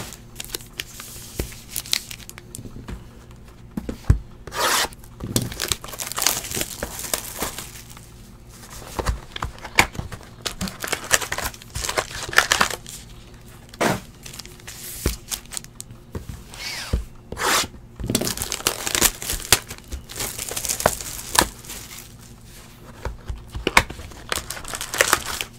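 Football trading card packs, 2017 Unparalleled, are torn and crinkled open, their foil wrappers rustling and ripping in steady close bursts with sharp crackles throughout, no voices over it.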